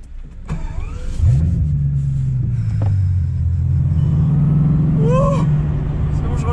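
Bugatti Chiron Sport car heard from close by, a deep steady engine rumble building and holding, with a brief whirring tone near the end; voices are faintly present.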